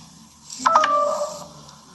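A woman's mobile phone rings briefly indoors, giving a short burst of electronic ringtone tones at moderate level over a quiet room background.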